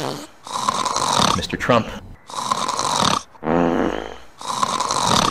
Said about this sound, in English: Counsel, please advise your client to refrain from snoring.